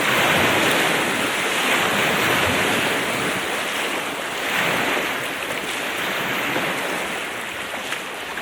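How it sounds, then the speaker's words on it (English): Ocean waves wash steadily in the background, a broad, continuous surf hiss with soft swells and some wind buffeting the microphone, no voices. "just some random waves going on in the background"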